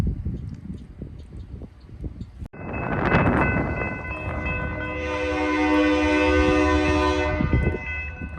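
A heavy freight train pulled by hard-working locomotives rumbles past at close range, a loud blast of the horn rising over the broad roar of engines and rolling cars, sustained and steady without speech.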